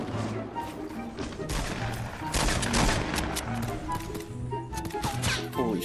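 Gunfire in a Fortnite Battle Royale match, with rapid bursts and scattered shots crackling over game noise while players talk over the action.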